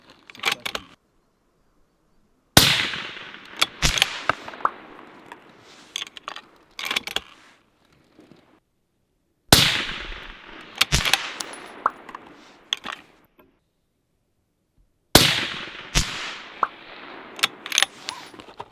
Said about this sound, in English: if you just shoot them as quick succession.